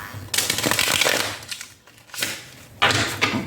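A Rider-Waite tarot deck being shuffled up close, quick papery riffles and slaps in a few bursts separated by a brief pause.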